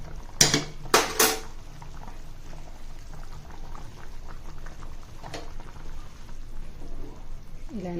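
A spoon scrapes and clinks against a pot as masala is gently stirred into a simmering Nellore fish curry, a few sharp metallic knocks early, then soft bubbling and quiet stirring.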